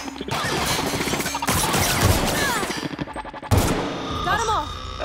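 Rapid bursts of weapon fire from a sci-fi shooter, The Outer Worlds, crack loudly in clustered volleys with short gaps, punctuated by mechanical clanks and a final heavy blast.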